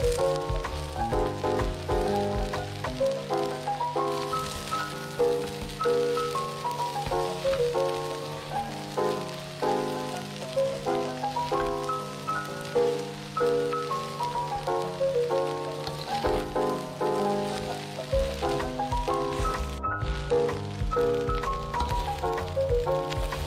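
Malay village-style fried rice with water spinach sizzling steadily in a hot wok while being stirred, a dense continuous crackle with music playing over it throughout.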